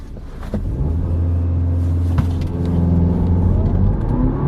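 A turbocharged 2022 Audi car engine drones low and steady, rising gradually in pitch as it pulls away from a standstill under hard, sustained acceleration, heard from inside.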